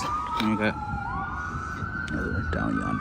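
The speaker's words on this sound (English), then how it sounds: "Sorry about the siren. The po-po is flying by." A police siren wails steadily as the car speeds past on the street, loud and sustained under someone talking briefly.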